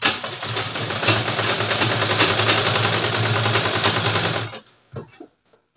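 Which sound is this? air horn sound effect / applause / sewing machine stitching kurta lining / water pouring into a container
sewing machine stitching kurta lining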